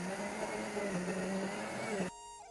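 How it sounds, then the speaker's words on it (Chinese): Food processor on its jam setting blends cooked black sesame with an egg, sugar and liquor into paste, a loud steady motor whir for about two seconds that cuts off abruptly into quiet with a faint tone. "然后放入料理机里，选择果酱键"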